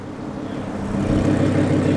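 A deep Porsche 911 GT3 Cup car engine rumble builds in the first second, then holds steady and loud, a throaty exhaust drone with no voices, at a car meet.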